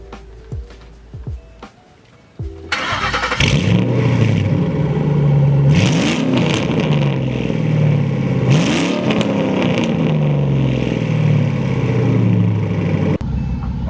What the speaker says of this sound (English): the exhaust note on these cars is nasty